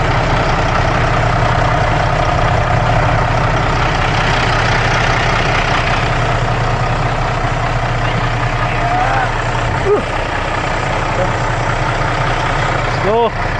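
Heavy truck engine idling in deep snow, a loud, continuous low rumble with a steady throb heard close up throughout, with a few faint squeaks near the end.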